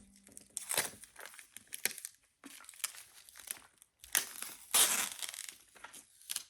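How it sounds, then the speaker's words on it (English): Plastic wrap is peeled off a new pink keyboard during an unboxing, giving close crinkling and tearing bursts with short pauses between them, and no talking. "let me take the plastic off."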